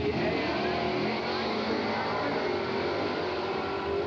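A 1959 El Camino drag car powered by a 454 cubic inch engine roars steadily and loudly at a drag strip, a dense continuous engine rumble with no voices.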